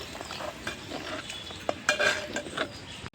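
A bajji curry with yogurt mixed in is stirred in a pot, a spoon scraping and swishing steadily through the thick mixture, close and moderately loud, with no voices.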